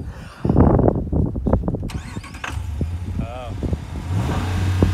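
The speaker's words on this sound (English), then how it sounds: "You think this Dodge will start?" An old Dodge car engine cranks and catches amid people talking, with rising engine rumble toward the end.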